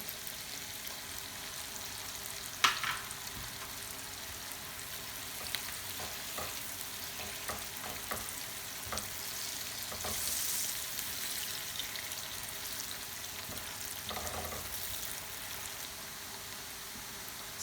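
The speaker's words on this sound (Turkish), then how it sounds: "Şimdi de sarımsaklarımı ekliyorum." Garlic frying in a pan while a tomato-sauce salmon dish is prepared, a steady soft sizzle throughout with occasional stirring clicks and scrapes, fairly quiet and without talk.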